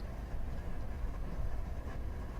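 BNSF freight train rolling steadily in the Run8 train simulator, a continuous low rumble with faint rhythmic clatter of railcars, no voices.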